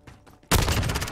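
Burst of rapid MP7 submachine gun fire in a tactical video game erupts loud and close after a quieter stretch, sustained automatic shots running to the end.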